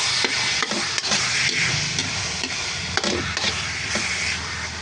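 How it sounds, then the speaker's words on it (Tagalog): Ground pork or beef being sautéed and stirred in a pan with salt, giving a steady soft sizzle broken by scraping and stirring strokes, close and continuous, with no talking. "Gigisa-gisa lang po ulit natin yan."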